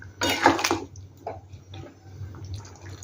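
Fried pointed gourd pieces being stirred into boiled mung dal with potatoes in a pot, giving a brief burst of wet clattering and scraping, then a few soft knocks over a low steady hum.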